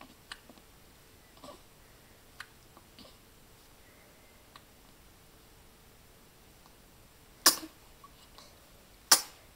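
A baby gives two sharp little sneezes a couple of seconds apart, sudden and close after a quiet stretch of faint ticks and rustles.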